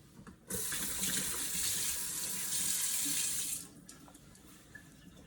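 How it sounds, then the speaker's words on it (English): A kitchen tap runs hard as potatoes are washed under it, a steady close rush of water for about three seconds before the flow cuts back to a quieter trickle. "let me go ahead and wash my potatoes"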